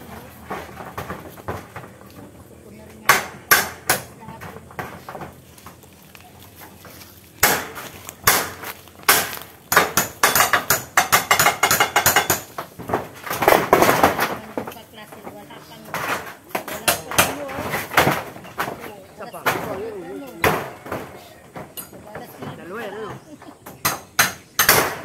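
Someone hammers wood pieces in a shop, sharp irregular blows coming in bursts, some rapid and clustered, others spaced, with scraping and handling noises and voices talking between strikes.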